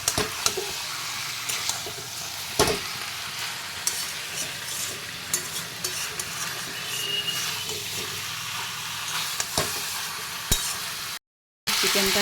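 Chicken being stirred and sautéed in a pan, a steady sizzle broken by repeated scraping strokes and occasional utensil clinks, close by with a brief cut to silence near the end.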